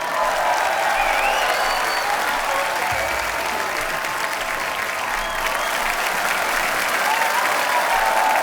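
A studio audience at a Hindi comedy talk show claps loudly and steadily, a dense, even wash of applause filling the room for several seconds without a break.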